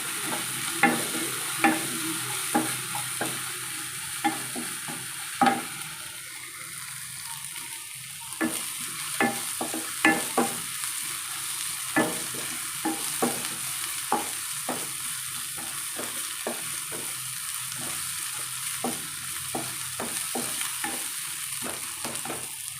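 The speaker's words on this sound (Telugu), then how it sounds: "ఇంట్లో గ్రైండ్ చేసుకున్న అల్లం వెల్లుల్లి పేస్ట్ మసాలా కలిపి వేస్తున్నాను నేను ఇలా కలుపుకోవాలండి" Onions frying with homemade ginger garlic paste and masala in a pan, a steady low sizzle broken by a regular run of sharp spoon scrapes and taps as the mixture is stirred, close and continuous.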